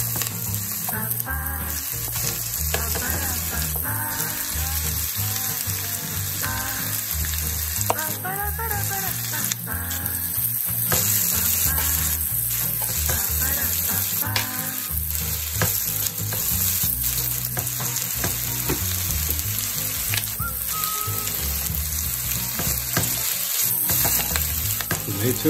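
Onion fries in a pan with a loud, continuous sizzle, punctuated by frequent scraping and stirring strokes close by.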